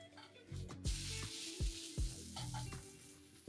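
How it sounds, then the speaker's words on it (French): Noodles fry in a pan with oil over medium heat for grilled beef or chicken noodles, a close, steady sizzle broken by several sharp spatula taps and scrapes. "les faire griller dans une poêle à feu moyen avec 2 cuillères à soupe d'huile, portion par portion, 4 minutes de chaque côté"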